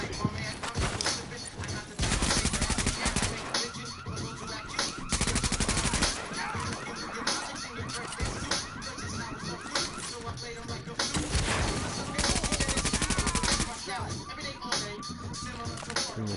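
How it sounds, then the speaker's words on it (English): Gunfire aimed at the player in the video game The Division, repeated rapid bursts of shots and crackling volleys that stop and start across the stretch, loud and close, with a voice talking over parts of it. "somebody shooting me with a shot"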